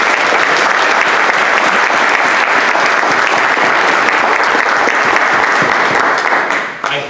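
An audience at a meet-and-greet gives a congresswoman a loud, sustained round of dense clapping that carries on evenly before tapering off at the very end.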